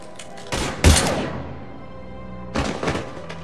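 Gunfire in the video game Mass Effect 3 comes as two short bursts of heavy, thudding shots, a louder volley first and a softer one after a quiet stretch.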